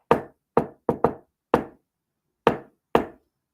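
Sharp knocks on wood in a deliberate signature pattern, seven distinct raps at uneven spacing with a quick double in the middle, loud and close with silence between them.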